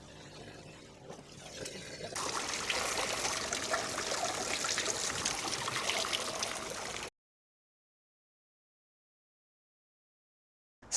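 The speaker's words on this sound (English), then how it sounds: "Pond is now filling up." Water steadily trickling and pouring into a cleaned-out, renovated garden pond, a fairly loud continuous rushing stream heard close up for about seven seconds, then cutting to silence.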